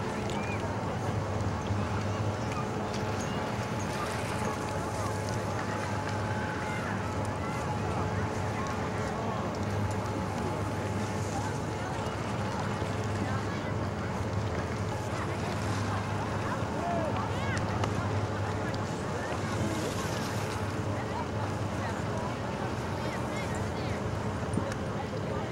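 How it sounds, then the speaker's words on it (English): Blizzard wind blowing at Northstar ski resort, a constant broadband roar buffeting the microphone for the whole stretch, steady and fairly loud with no clear gusts. "a little bit of a blizzard blowing here at Northstar"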